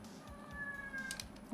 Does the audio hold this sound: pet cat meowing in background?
yes